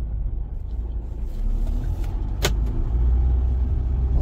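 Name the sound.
car engine while driving and shifting gears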